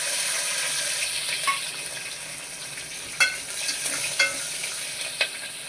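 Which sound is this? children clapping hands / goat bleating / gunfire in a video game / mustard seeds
mustard seeds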